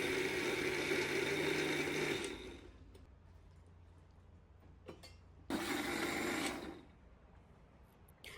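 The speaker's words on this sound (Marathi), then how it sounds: "अशाच प्रकारे संपूर्ण ही ज्वारी मी वाटून घेते." An electric mixer grinder grinding sorghum (jowar) into coarse flour runs in two loud whirring bursts with a quiet pause between them. It stops abruptly each time, with faint clicks in the gap and no one talking.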